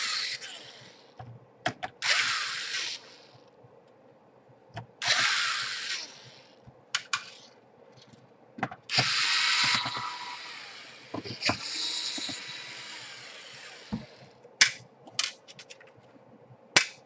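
Screws are worked on during disassembly of an Asus N53S laptop, with close, intermittent bursts of hissy mechanical whirring and scattered sharp clicks and ticks between quiet stretches.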